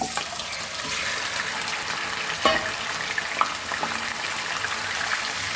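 Mutton fries in hot oil for a Kashmiri-style rogan josh, giving a steady, dense sizzle throughout. A couple of faint clinks of stirring come through on top.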